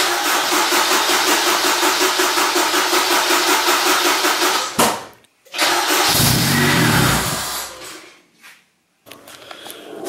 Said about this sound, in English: We tried our best to get it started, but we think the battery's flat.